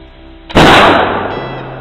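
A single sharp gunshot cracks out after a short quiet lead-in, fired at a can, with the blast decaying into a lingering outdoor echo and rumble.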